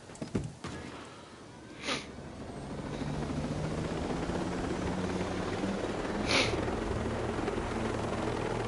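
Helicopter rotor drone from a military training simulation game, a steady loud whir that holds throughout, with a couple of brief sharp transient bursts near the start and middle.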